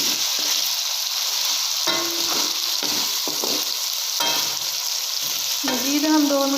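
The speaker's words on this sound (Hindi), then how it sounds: "मज़ीद हम 2 मिनट और भून लेते हैं।" Chicken frying in a pan for chicken pulao gives a steady, close sizzle, broken by scraping stir strokes throughout.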